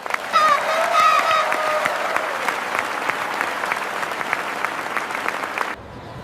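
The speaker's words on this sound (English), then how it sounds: "The whole street claps for them." Group of people gathered on a street applauding, a dense burst of clapping with a few raised voices at the start, sustained for several seconds before cutting off.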